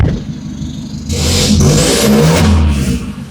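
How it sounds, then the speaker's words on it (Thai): An Isuzu D-Max pickup, lowered on large wheels, starts up close by after a second of near quiet, then its engine revs loudly and steadily with a rising pitch and holds the roar to the end. "ขอสตาร์ทรถให้ดูนิดนึง ตัดสตาร์ทเรียบร้อยไม่ต้องเหยียบคลัตช์นะ"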